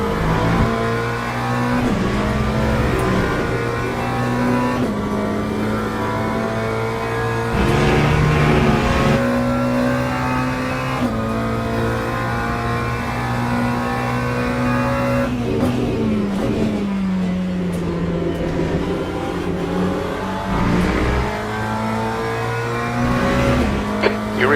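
An LMGT3 race car engine at Autodromo Jose Carlos Pace in Le Mans Ultimate drones loudly and close throughout. The pitch climbs and falls with a few sharp throttle stabs, and brief tyre noise slips in along the way.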